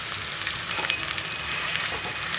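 Fish frying in hot oil in a home kitchen, a steady crackling sizzle filling the clip with no pauses and no voices.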